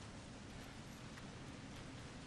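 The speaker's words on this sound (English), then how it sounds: "Here comes the rain." Steady rainfall in the game Resident Evil Revelations 2, an even, hissing broadband wash with no pauses, soft and constant throughout.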